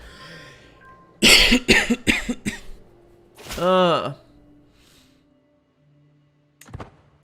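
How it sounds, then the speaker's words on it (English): A burst of several harsh coughs in quick succession, then a longer throaty rasping cough, followed by quiet and a faint final noise; close and loud. "Stupid cough."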